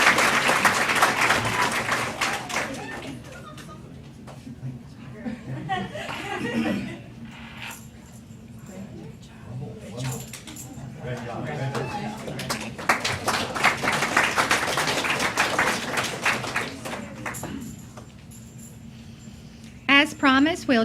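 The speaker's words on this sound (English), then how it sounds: "let's give a big round of applause to Mitchell for this." Audience applause at a CCS event, bursts of clapping and some laughter that rise and fall between stretches of talk from a presenter, moderately loud and fairly close.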